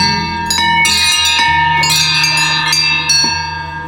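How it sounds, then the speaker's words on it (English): A large bell at the Anuradhapura walawa rings loud and close, struck three times at roughly even intervals with long metallic overtones ringing on between strikes. "you need to ring this bell 3 times"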